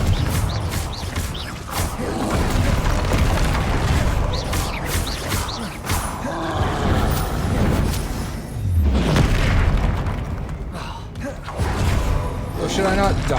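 Confringo spell blasts in the Hogwarts Legacy video game, a busy run of repeated booming explosions and crashes mixed with combat effects, loud and continuous, with a voice calling out spells in between.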